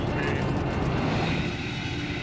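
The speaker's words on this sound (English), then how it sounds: "That plane has just started to do a big, huge plunge." Steady, dense roar of an Alaska Airlines airliner in an uncontrolled plunge, a continuous broadband rush that holds at full strength throughout without breaks.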